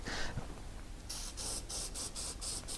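A short hiss from an aerosol can of chain lube, then a quick series of about six rhythmic spray bursts close by onto a Royal Enfield Meteor 350 drive chain, no voices.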